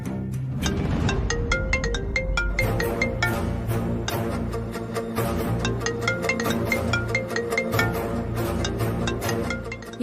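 A phone ringing with a musical ringtone melody that plays continuously and clearly, repeating its tune throughout with no talking over it.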